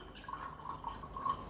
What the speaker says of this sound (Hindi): तो यहाँ पे नॉर्मल पानी से हमने ये चने वॉश किए